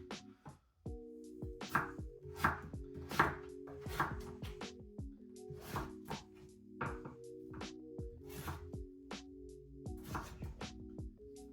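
Potatoes chopped into rough one-centimetre cubes for a village-style Bulgarian moussaka, a knife striking the board in a steady run of crisp, close chops with brief pauses between groups.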